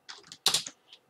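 Keys pressed on a computer keyboard to enter a shortcut: a quick cluster of soft, close clicks over about a second, with no talking.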